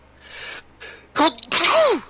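A single sharp sneeze bursts out loud and close after a brief quiet intake, with soft background noise before it.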